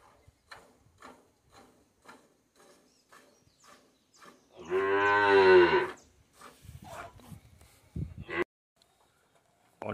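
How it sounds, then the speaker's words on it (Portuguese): A bad-tempered dairy cow on a farm lets out one long, loud moo midway, surrounded by quieter stretches of faint knocks, rustles and brief voices. "Não vou entrar lá dentro, porque a vaca é braba, hein?"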